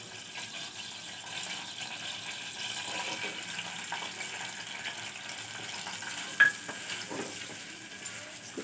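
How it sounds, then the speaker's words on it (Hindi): Onions frying in hot oil for a mutton dish, a soft, even sizzle heard close but fairly quiet, with one brief clink of a utensil and faint stirring, nobody speaking. "देखिए प्याज डाल दी"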